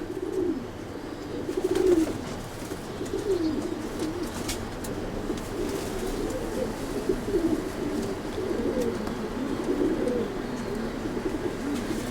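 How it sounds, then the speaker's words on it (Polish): Racing pigeons at a breeding stud coo steadily in a loft, several soft overlapping rolling coos repeating throughout at moderate distance, with no talking. "Piękny ptak."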